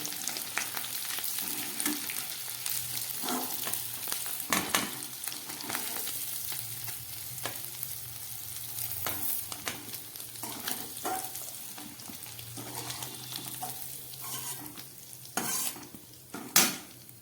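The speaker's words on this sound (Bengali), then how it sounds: "নুন হলুদ দিয়ে আমার আলুগুলো ভাজা হয়ে গেছে" Potatoes with salt and turmeric fry in hot oil with a continuous sizzle, punctuated by scraping and clinking of a utensil stirring against the pan, ending with a louder clatter.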